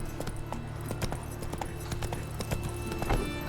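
Hoofbeats of Geralt's horse Roach in The Witcher 3, a steady, close clip-clop of hooves at a brisk gait, sounding alone over a low ambient hum.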